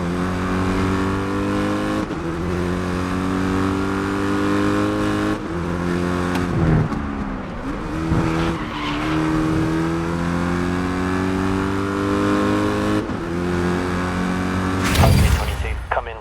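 Race car engine from the Grid Legends racing game, a loud sustained multi-toned roar with shifts and dips as it corners at speed, briefly bursting louder near the end, with game sound layered in throughout.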